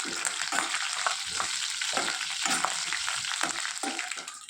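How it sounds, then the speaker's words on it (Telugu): Urad dal, chana dal, cumin, mustard seeds, dried red chillies and curry leaves sizzling in hot oil while being stirred, a loud close crackle with a scraping rhythm from the spoon, no voices. "1 స్పూను మినపప్పు, శనగపప్పు, 1 స్పూన్ జీలకర్ర ఆవాలు, 2 ఎండుమిరపకాయలు, కొద్దిగా కరివేపాకు వేసి వీటిని బాగా వేయించుకోవాలి"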